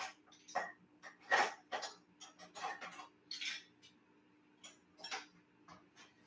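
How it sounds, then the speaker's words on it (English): Metal teaspoons grabbed in a home kitchen while baking, giving a series of sharp, fairly close clinks and rattles of cutlery at irregular intervals, with no talking. "I have to grab my teaspoons."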